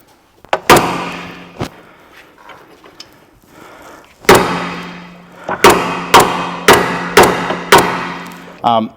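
Heavy metallic hammer blows ring out while driving out a front lower ball joint on a BA Ford Falcon, a few scattered strikes then a rapid series of six or seven evenly spaced hits, loud and close.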